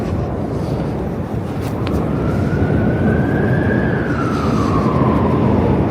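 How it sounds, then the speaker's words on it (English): A faint siren tone from an emergency vehicle in Manhattan, New York City, rises and then slowly falls over a loud, constant rumble of traffic or engine noise. "This siren sounds a little weird."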